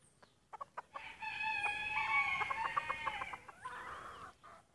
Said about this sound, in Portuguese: As galinhas pintadinhas, que bonitinha.